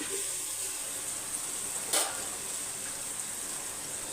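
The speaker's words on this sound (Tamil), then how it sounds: "வெங்காயம் வந்து நல்லா வதங்கட்டும்" Onions sautéing in a pan for mutton biryani, a steady, soft, hissing sizzle throughout with one brief louder spit midway, heard alone.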